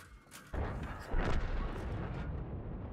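A tank cannon fires in a video game, a heavy booming blast followed by a second louder rumbling impact and a long decaying roar.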